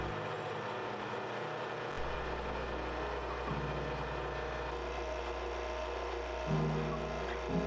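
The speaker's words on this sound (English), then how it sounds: "this grinder's fairly slow. The first little bit it'll grind pretty good" An apple grinder slowly grinding apples for cider, giving a steady mechanical grinding drone with rattling, ratchet-like clatter and a low motor hum throughout.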